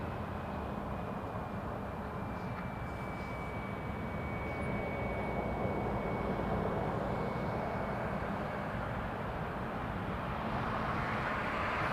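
WestJet Boeing 737 Max 8 taking off from an airport runway, a steady distant jet roar slowly building in loudness, with a faint high engine whine running through it.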